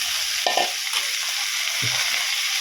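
Gourd leaves and spinach fry in a pan with a steady broadband sizzle, broken by a few short stirring scrapes near the start and again toward the end. No one speaks.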